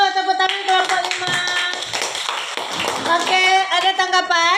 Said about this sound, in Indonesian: Tepuk dulu, tepuk tangan kelompok 5.